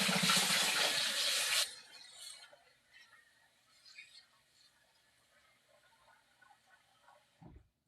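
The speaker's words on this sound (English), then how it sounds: "Put water in it. Warm water." Warm water pours from a tap into a pot for fufu soup: a loud, steady hiss and splash for about a second and a half, then quieter dripping and sloshing before a faint thump at the end.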